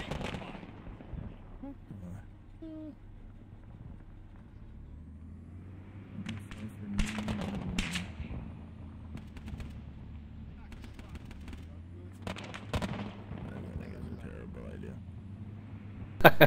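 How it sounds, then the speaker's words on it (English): Enemy gunfire in a jungle military video game: bursts of shots and rapid cracks arrive in clusters over a low engine-like rumble, with people talking throughout. "Enemy fire! Under fire!"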